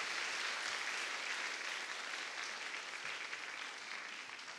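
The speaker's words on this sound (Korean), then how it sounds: "다시 한번 박수 부탁드립니다." Congregation applauding at an elementary school graduation worship service, a continuous even wash of many hands clapping, fairly quiet and slowly fading toward the end.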